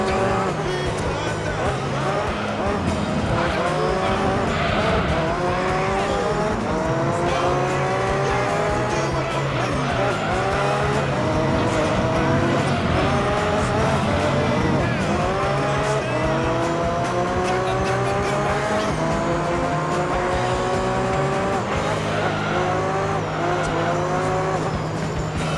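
Race car engines roar continuously in Gran Turismo 3, with pitch sweeping up and down through gear changes, while tires squeal and skid under hard cornering. A voice talks over much of the loud, steady driving sound.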